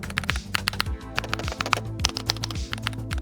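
Rapid typing on a mechanical gaming keyboard fitted with PBT keycaps: dense, even clacking keystrokes close up with sharp thocky impacts, heard alone without talk.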